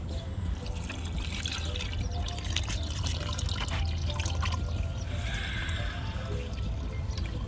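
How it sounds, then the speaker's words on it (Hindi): Water poured by hand from a pot onto potted plants at home, a steady close splashing trickle with dripping, running continuously without talk. "लेकिन जिसमें नहीं डाला उसमें अब मैं ये पानी डाल के आऊँगी।"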